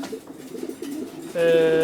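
Breeding pigeons in boxes give soft, low, bubbling coos nearby, then a sharper sustained tonal sound cuts in near the end and holds steady.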